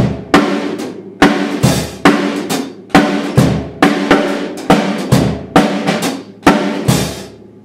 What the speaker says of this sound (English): So a strong backbeat on the snare